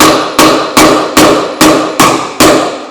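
A hammer strikes a wheel bearing being driven into a dirt bike wheel, seven sharp metallic blows at a steady, roughly even pace, each ringing briefly before the next, loud and close with no voices.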